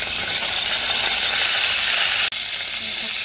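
Curry leaves sizzle loudly and steadily in hot oil for a potato fasting dish. The hiss is continuous and close, with one brief dropout near the end and no voices.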